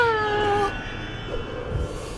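A kitten meows during a bottle feeding, one clear close meow followed by softer rustling and small sounds, with no talk.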